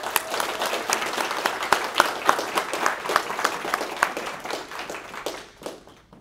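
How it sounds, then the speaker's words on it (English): An audience at a game development capstone presentation gives sustained, moderately distant applause, with many overlapping claps fading out toward the end. "we just wanted to give a big round of applause to them and thank them for that"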